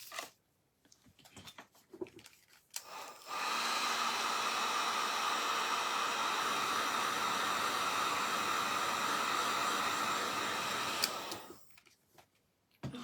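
A hair dryer blows steadily on a freshly painted lemonade stand sign, a loud continuous whooshing roar lasting several seconds, with brief handling noises before and after.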